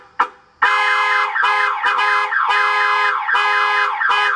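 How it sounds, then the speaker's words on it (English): Panic-button car alarm on a 1990 Ford Bronco 4X4, a loud, close electronic siren that pulses in repeated bursts with brief gaps, playing alone after a sharp click. "I'll set the alarm off for a second."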